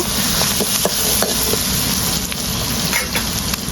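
Cumin powder being stirred into a frying pan of greens, Bengali-style water taro and dhenki shak cooked with crab, under a steady, close sizzle with faint scraping strokes throughout.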